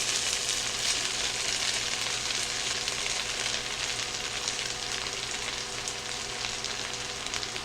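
Cabbage frying in a skillet with sausage and crispy browned potatoes makes a dense, continuous sizzle, close and steady throughout with no voices.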